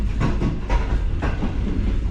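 A Pakistani passenger trial train with new Chinese-built coaches, travelling from Karachi, rumbles along the rails, heard from inside as a low, rhythmic clickety-clack of wheels over track joints.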